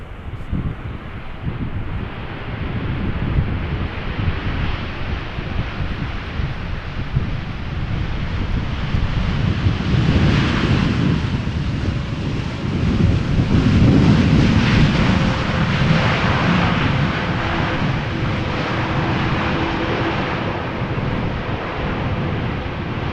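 KLM Boeing 787-9 Dreamliner, flight 696 from Toronto, landing in gusty crosswind at Amsterdam Schiphol: a steady broad jet roar mixed with wind buffeting on the microphone, swelling gradually as the airliner passes, with no voices.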